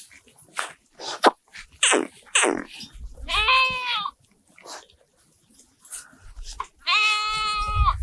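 Goats and sheep on a village livestock farm raising cows, sheep, goats and country chickens bleat close by in two distinct quavering calls, separated by snorts and short rustling noises.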